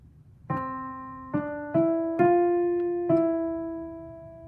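Five piano notes struck one after another at an unhurried, uneven pace, each ringing on and slowly fading, with no talking.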